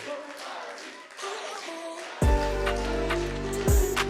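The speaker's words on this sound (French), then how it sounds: "on peut leur faire un tonnerre d'applaudissements" An audience applauds the young performers at a youth talent-contest evening, a steady rain-like patter of hands that is soon overtaken by loud, bass-heavy music.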